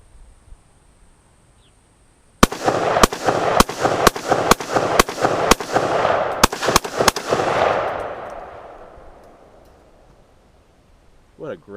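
An AR-15 rifle fires about a dozen sharp, loud shots in a quick irregular string, each crack ringing out, followed by a long fading echo and then quiet.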